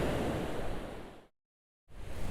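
Ocean surf rolls onto a beach as a steady, broad wash of waves with wind noise, cutting out briefly to silence before resuming.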